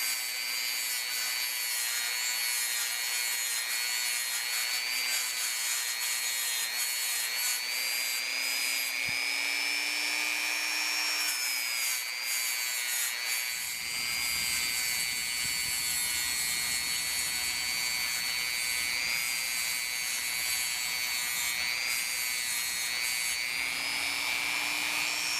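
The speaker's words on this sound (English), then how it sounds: "I prefer these plastic abrasive bristle wheels to wire wheels." A plastic abrasive bristle wheel, 120 grit, spinning on a power tool while scrubbing rust off an old Keystone Wescott No. 78 S wrench; a steady, loud whirring rub runs throughout with slight shifts in pitch as pressure changes, no voices.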